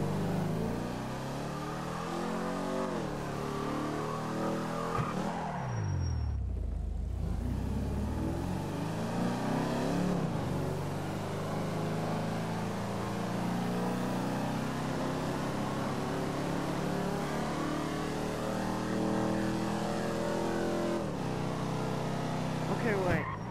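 Car driving in GTA 5 Online with the engine droning and rising in pitch as it accelerates, a brief drop and swoop around a gear change, sustained and fairly loud under intermittent talk.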